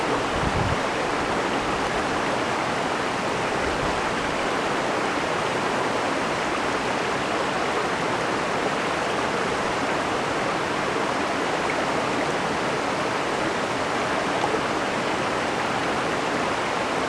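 Steady rushing water from Cascade Creek in Yosemite flows continuously and loudly, a broadband wash with no voices.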